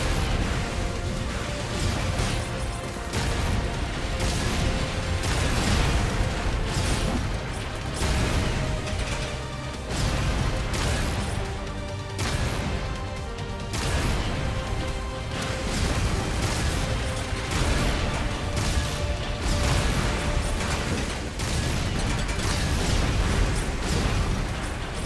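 Mech weapons firing and blasts in the Hardcore Mecha video game's simulation mode; dense, continuous booms, bursts and crashes layered with mechanical noise and a driving game soundtrack, loud throughout with no talking.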